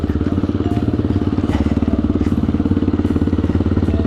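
A Pegaso 650 adventure motorcycle rolls down a steep, flood-worn dirt slope, its single-cylinder engine thumping in a loud, steady, rapid idle-like beat close up, with faint clatter over it.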